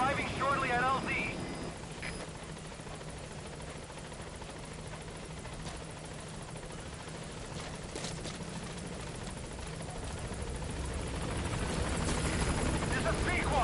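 The B-Quad helicopter in Metal Gear Solid V arrives at a landing zone, its rotor wash a continuous broadband roar with a steady chop that swells louder near the end, heard with no talk over it.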